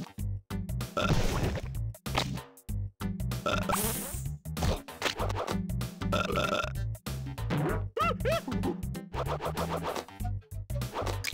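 Loud, repeated cartoon burps from Pumbaa in the 1995 PC game Timon & Pumbaa's Jungle Games, a dense run of gurgling belches with short gaps, backed by game music.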